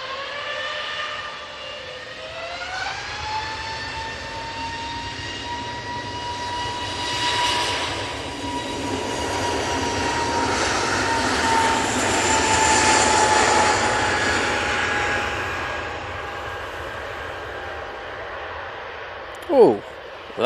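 A jet airliner takes off on a short positioning flight to Birmingham, its engines whining with rising tones that climb early and then settle into a loud, sustained roar, with a sharp brief noise at the very end.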